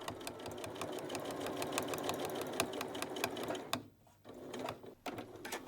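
A sewing machine topstitches a pocket onto a jacket, its rapid needle ticks running steadily up close, then stopping briefly in a short pause before one more quick burst of stitching.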